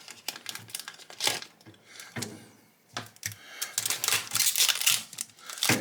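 Close, irregular snips and crinkly clicks of a part being cut from an AMT 1/32 scale Studio Series TIE Fighter plastic model kit, with several short bursts and brief pauses and no talking.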